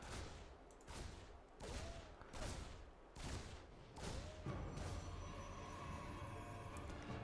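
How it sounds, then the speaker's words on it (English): Reaper unit in StarCraft 2 firing at a pylon, a run of rapid gunfire bursts in roughly regular pulses, moderately loud, with a low game rumble continuing behind. "Reaper being a nuisance, shooting a pylon."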